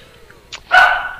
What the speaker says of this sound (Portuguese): Agora eu tô com o cachorro.